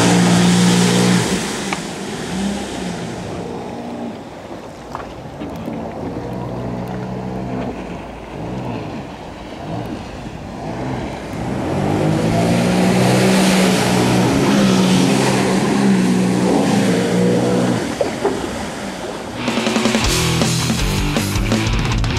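A jet ski engine on open water in summer heat, droning loud and close for over twenty seconds, its pitch rising and falling as it revs and accelerates, with wind and splashing mixed in.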